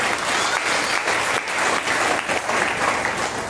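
An audience at a Srimad Bhagavatam gathering in a village in Uttar Pradesh claps steadily, dense and continuous applause from many hands, loud and fairly close.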